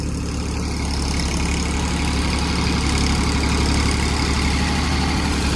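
A tractor engine runs in first gear at about 1200 rpm, a loud, steady, unbroken low diesel drone with constant mechanical chatter from start to finish.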